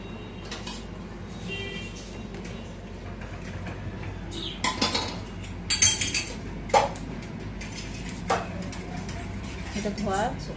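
Dishes, pots and utensils clink and clatter in a home kitchen, with scattered sharp metallic knocks and scrapes over a low background, while someone talks intermittently nearby.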